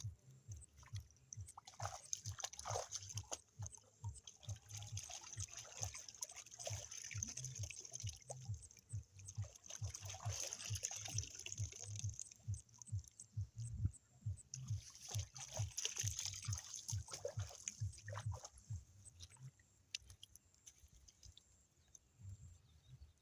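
Freshly picked leaves are washed in water, giving soft, repeated splashing and trickling with rhythmic sloshing movements that continue steadily at close range, fairly quiet, with no talk.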